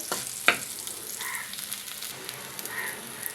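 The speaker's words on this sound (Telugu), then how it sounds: "నువ్వులు తొందరగా మాడిపోతాయండి అందుకే తిప్పుకుంటూ వేయించుకోవాలి" Sesame seeds roast dry in a pan, giving a soft steady crackle with faint scraping as they are stirred, and one sharp clink near the start.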